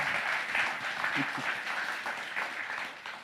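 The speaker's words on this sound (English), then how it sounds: "Round of applause for Sean." An audience at a comics event applauds an Eisner Award-winning comics artist, fairly soft, even clapping that fades slightly toward the end, with a brief voice heard under it.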